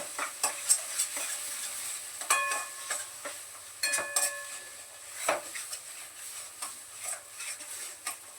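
Masala paste frying in oil in a kadhai for a low-oil pea and paneer masala, stirred with frequent sharp metallic scrapes and taps over a constant hissing sizzle.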